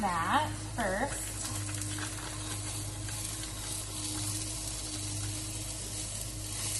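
Reduced-fat premium pork sausage from a roll browning in a hot pan, a low, steady sizzle running throughout, with a couple of brief scraping stirs at the start.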